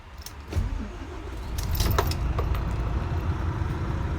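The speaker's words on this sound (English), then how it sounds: "So we'll just go to start the vehicle." A 12.8-metre Volvo B9R bus, heard from a clicking key and ignition then an engine turning over and settling into a steady low idling rumble, close by with no talk.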